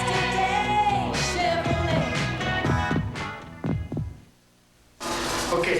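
A heartbeat sound effect in a Chevrolet Astro television commercial thumps in a low, steady rhythm under a loud, full music bed, which drops out briefly near the end before swelling back in.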